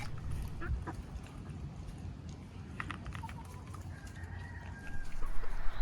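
Poultry cluck and call softly against a steady background rumble, a few short squawks scattered throughout.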